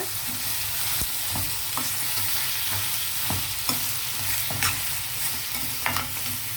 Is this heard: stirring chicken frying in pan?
yes